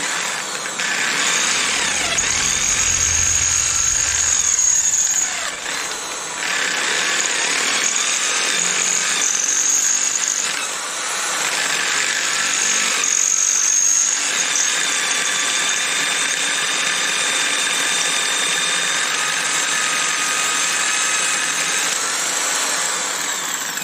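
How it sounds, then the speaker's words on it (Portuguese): A drill bit grinding out a stuck wheel part from a Samsonite-type suitcase wheel assembly, a loud steady high-pitched whine with harsh buzzing, running continuously with slight surges and dips in intensity throughout. "Aos poucos a broca vai vai arrancar isso aqui."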